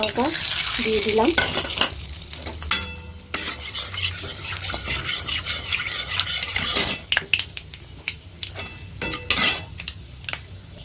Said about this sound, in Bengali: এখন আমার তেলটা গরম হয়ে গেছে এই তেলটার মধ্যে আমি এলাচ দারচিনি লং এগুলো সব দিয়ে দিচ্ছি